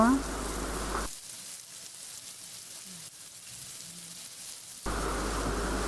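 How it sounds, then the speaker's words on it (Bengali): Onion paste frying in a pan for a hilsa fish dopiaza, giving a steady noisy sizzle that drops to a quieter crackle in the middle and swells loud again near the end, with no talking. "দিয়ে দিচ্ছি দেড় টেবিল চামচ পেঁয়াজ বাটা এভাবেই করে পেঁয়াজগুলো আমি সিদ্ধ করে নেব"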